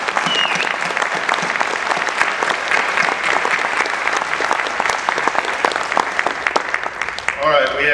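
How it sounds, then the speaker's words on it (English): Dense, steady applause fills a room at a county sheriff debate, many hands clapping loudly throughout before a voice breaks in at the very end. "give yourselves a big round of applause"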